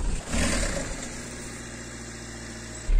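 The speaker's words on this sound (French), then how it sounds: "Messieurs, démarrez vos moteurs." Peugeot 306 1.9 TD XUD diesel engine catching and settling into a steady, low clattering idle, close and fairly loud, with a slight swell at the very end.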